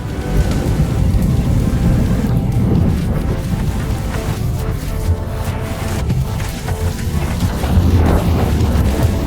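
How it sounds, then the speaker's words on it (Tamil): Heavy rain pours in a thunderstorm with a continuous loud roar and low rumbling thunder throughout, no voices. "புயல் அவனை எதிர்பாராத விதமாக விரட்டியது."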